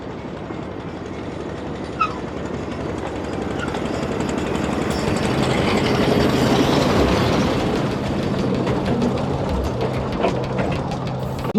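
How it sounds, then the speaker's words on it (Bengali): A toy train at the Rail Museum in Howrah passes close by, with a steady loud rumble and rhythmic clickety-clack of wheels on the rails. "চোখের সামনে দিয়ে টয় ট্রেন হচ্ছে চলে গেল"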